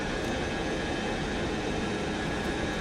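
Roaring Boeing 707 jet engines at full power during a takeoff roll in a flight simulator, a steady broadband rumble that holds loud and unbroken throughout with no voices.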